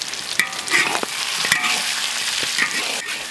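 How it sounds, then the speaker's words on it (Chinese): Duck meat slowly frying and being stirred in oil in a wok: a steady close sizzle with scraping stir strokes, no voices. "会慢慢炸一下，那个鸭肉才更香"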